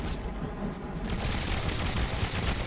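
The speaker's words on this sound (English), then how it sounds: "gives us our repeating pattern with our mini cannons on the nose" Nose-mounted mini cannons on a custom aircraft in the Trailmakers video game fire in rapid succession, a dense, continuous, loud burst of booming shots with no talking.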